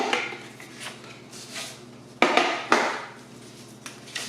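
A paper trimmer chops through eco-dyed card-making paper in two sharp, crisp cuts close together, with faint handling clicks and rustles of paper around them.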